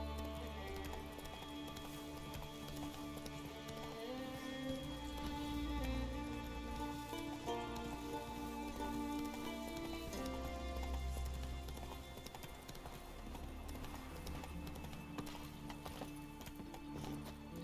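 Hooves of the horse Roach clip-clop at a gallop in The Witcher 3, a steady rhythmic drumming under game music and ambience, moderately close and fairly quiet.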